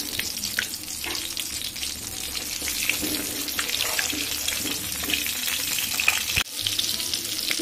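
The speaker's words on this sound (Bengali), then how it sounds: "মাছটা ভেজে নিয়ে আমি বেগুনগুলো ভাজা বসিয়েছি" Eggplant slices frying in oil in a home kitchen, a steady dense crackling sizzle throughout with occasional sharper pops and one brief clatter near the end.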